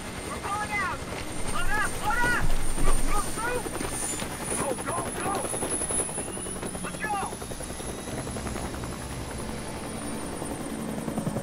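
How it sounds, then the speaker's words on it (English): Helicopter in the Days Gone video game flying overhead, a loud continuous rotor thump and engine whine lasting throughout, with a person speaking over it. "I wonder where they coming from if they have a helicopter"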